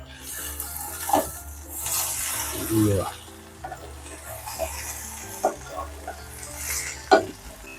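Potato curry is being stirred and turned in a frying pan, giving soft sizzling under scraping and clattering spoon strokes, with several louder knocks against the pan and no talking.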